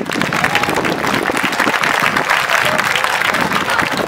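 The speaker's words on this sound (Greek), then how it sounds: "Ένα μεγάλο χειροκρότημα για τα μικρά μας." A large crowd applauds the children at an outdoor Cretan cultural tradition festival, dense continuous clapping at full volume with a faint murmur of cheering underneath.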